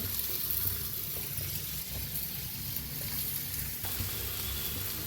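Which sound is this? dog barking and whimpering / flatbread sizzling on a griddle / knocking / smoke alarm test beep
flatbread sizzling on a griddle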